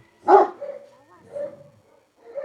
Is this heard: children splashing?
no